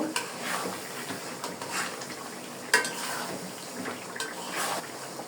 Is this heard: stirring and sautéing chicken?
yes